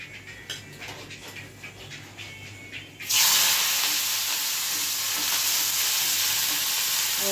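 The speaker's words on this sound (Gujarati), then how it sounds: "અને હિંગ નાખ્યા સંભારો વઘારું છું" Mustard seeds and asafoetida hit hot oil while tempering a Gujarati dish, with quiet clinks and stirring giving way to a sudden loud, bright sizzle that holds steady and hissing to the end.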